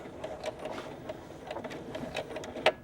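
A home sewing machine back stitching the top edge of a fabric tablet cover, a faint, steady mechanical whir with light ticking needle strokes throughout and one brief sharper click near the end.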